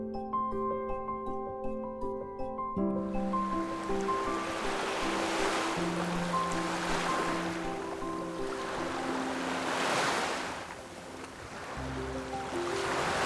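Gentle ocean waves wash onto Jinha Beach in Ulsan, South Korea, in soft, steady swells, heard under sustained background music with no voices.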